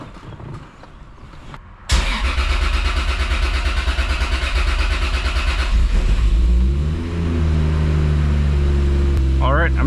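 Car engine starting abruptly after an oil change and settling into a loud, steady idle with a brief rev partway through, while a voice speaks over it.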